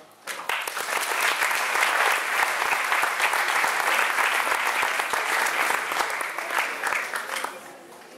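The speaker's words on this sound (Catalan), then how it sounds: "fort aplaudiment per al primer" A room full of people applauds a candidate at a local political party event, a loud, dense burst of clapping that starts abruptly and fades slightly at the end.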